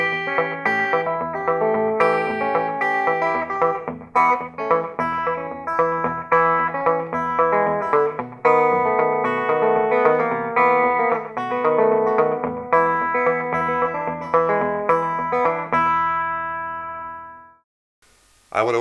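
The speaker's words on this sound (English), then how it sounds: "My amp is a self-made GA70 with a tube tape echo in the back." A rockabilly electric guitar plays through a self-made GA70 amp with a tube tape echo, picking out bright twangy licks with slapback repeats, loud and continuous for most of the passage before cutting off abruptly near the end.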